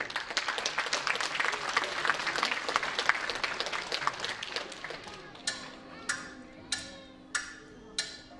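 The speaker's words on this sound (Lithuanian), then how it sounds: "Ir audringi jūsų plojimai" Circus festival audience breaks into dense, sustained applause that fills the hall, then thins into a few sharp separate claps toward the end.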